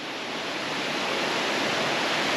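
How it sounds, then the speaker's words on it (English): A waterfall on the Appalachian Trail roars as a steady, loud, broadband rush of falling water that fills the whole moment without pause. "Here's my first view of the falls."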